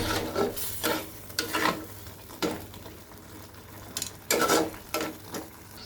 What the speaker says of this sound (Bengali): আর একটু কষাই এই মাছটা, তারপরে চিংড়ি মাছ দেব